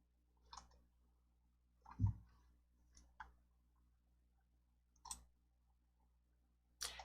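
Mouse clicks in PowerPoint come as a few sharp, isolated ticks spread across quiet time, each one crisp and close, with no voices.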